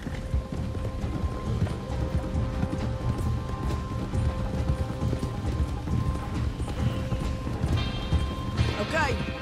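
Horse hooves clip-clopping and galloping in the open-world western game Red Dead Redemption 2, a steady busy patter of hoofbeats with a brief whinny near the end, mixed with game ambience and voices talking.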